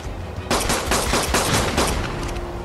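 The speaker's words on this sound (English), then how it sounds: "I'm shooting him." Rapid automatic gunfire in ARK: Survival, a sudden loud burst of closely spaced shots rattling continuously for about two seconds.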